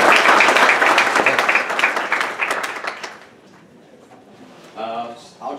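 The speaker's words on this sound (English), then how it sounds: "give him a round of applause too" Audience applause at a December 2014 Summer Creek business meeting, loud dense clapping for about three seconds before tapering off, followed by a brief voice.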